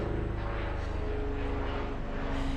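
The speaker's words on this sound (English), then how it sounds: "You guys hear that airplane?" A propeller airplane drones overhead outdoors during a stretching cool-down, a steady, fairly loud engine hum that holds throughout without a break.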